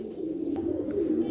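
A female Afsan grizzle pigeon gives a low, steady cooing close by, as a continuous throaty murmur.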